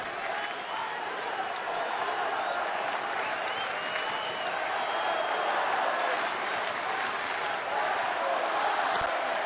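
A packed baseball stadium crowd of about 41,000 on its feet at a Giants–Dodgers game, a loud sustained roar of cheering and applause that holds steady throughout, with speech faintly mixed in.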